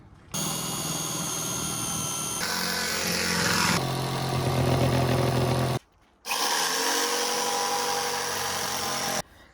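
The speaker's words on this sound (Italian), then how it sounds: "si inizia sempre con una punta da trapano, di solito negli angoli" A power drill fitted with a drill bit bores starter holes in the corners of a wooden kitchen panel for a camper, its motor whining loudly in steady bursts with short pauses between holes.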